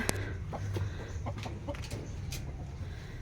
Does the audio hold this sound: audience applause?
no